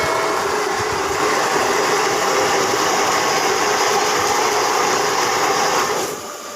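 A portable washing machine runs after being switched on, making a loud, steady mechanical hum and whir with a faint rattling texture. The sound continues evenly, then drops off slightly at the end.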